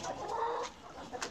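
Clucking from a coop of chickens including Blue Brahma, Plymouth and Sussex hens, soft continuous calls with a few sharper peaks, heard nearby and without any voices.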